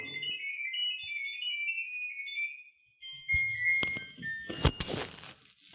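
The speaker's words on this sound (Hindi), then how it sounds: "ये जो ट्यून है मोबाइल फ़ोन द्वारा यहाँ पे रिकॉग्नाइज की जाती है" An LG air conditioner plays its smart diagnosis tone for a smartphone app: a rapid series of high electronic beeps and warbling pitches, joined partway by crinkling handling noise close by.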